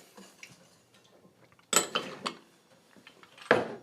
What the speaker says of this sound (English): We're just going to whisk this together so that we get all these flavors combined.